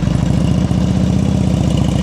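Motorcycle engine idling and ticking over at low speed during slow-speed riding drills, a steady pulsing low rumble held at an even loud level throughout, with no talk over it.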